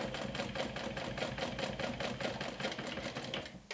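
A sewing machine stitches a glow-in-the-dark backpack in a fast, even run of needle strokes, close but soft, with a steady rhythmic clatter that stops near the end.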